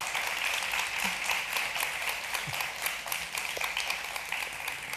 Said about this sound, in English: I think there's a solidarity in the applause from groups of the meeting